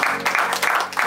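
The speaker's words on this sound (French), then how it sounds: "nous acclamons pour la gloire de Dieu Tout-Puissant" Church congregation applauding, steady continuous clapping from many hands filling a room, loud and close for about a second.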